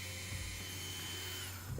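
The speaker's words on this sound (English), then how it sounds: "This drill bit I'm using here is actually a dental drill." A dental drill bit, used as a rotary tool bit on a coffee jar, gives a thin, continuous high-pitched whine over a steady low motor hum, fairly quiet and unbroken throughout.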